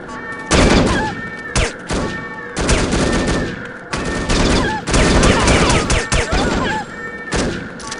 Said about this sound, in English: Fire the cigarette missiles!